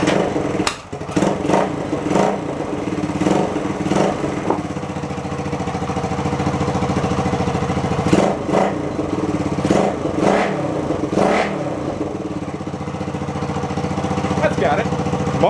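A 1972 Honda SL125 motorcycle engine with a loud muffler and an exhaust leak runs steadily close by throughout, with a few sharp clattering revs and knocks along the way.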